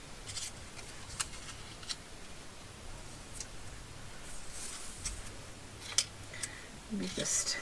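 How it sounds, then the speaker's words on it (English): Paper page tabs being folded by hand, with soft scattered creases and light ticking handling sounds, a few sharper clicks, under a faint background hum. "we'll just fold these up"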